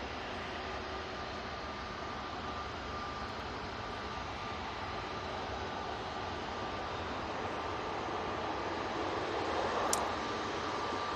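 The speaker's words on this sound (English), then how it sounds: "let's see if we can get that prop, because I know it is just about to touch down now" An ATR 72 turboprop arriving from the Isle of Man touches down at Manchester Airport, a steady broadband engine and propeller roar that builds slightly and holds throughout, with no talk over it.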